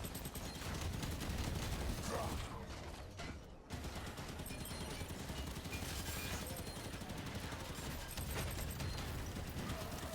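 Gunfire crackles in Halo 5: Guardians, dense, loud and nearly continuous with bursts from several weapons and one brief gap, a voice speaking underneath.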